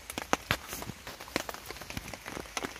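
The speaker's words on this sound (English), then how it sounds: "This rain's going to be on for today and tonight." Rain falls on a hammock camp during a stormy two-night trip, landing as a steady patter of close drops that tap unevenly on the surfaces nearby.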